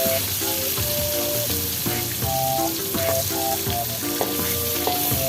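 Garlic-marinated tempeh frying in hot oil, a loud continuous close sizzle and crackle with steady tonal hum beneath and occasional light stirring clinks.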